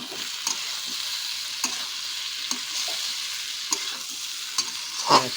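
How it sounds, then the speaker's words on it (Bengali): Ridge gourd fries in a pan on a low gas flame, giving a steady close sizzle broken by regular scrapes and clicks of stirring, with no talking. "ঝিঙেটা ভাজা ভাজা হয়ে গেছে।"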